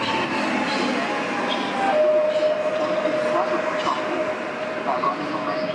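A PKP Intercity train runs into a station platform, a steady loud rumble with a long sustained tonal whine from the wheels or brakes, heard close and continuous.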